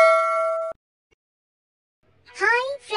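A bright notification bell ding rings clearly with a sustained metallic tone, then cuts off into silence before a child-like voice begins speaking.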